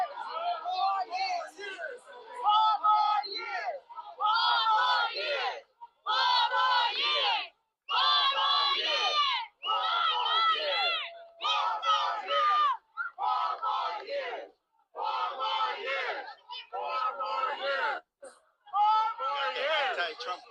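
An anti-Trump protest crowd in Harlem yells and chants in repeated loud bursts separated by brief pauses, voices overlapping in rising and falling shouts throughout.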